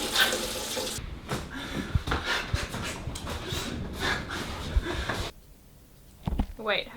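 Water runs from a tap while someone rinses out their mouth, a steady broadband splashing that goes on for about five seconds, then stops abruptly before a brief gurgling burst at the end.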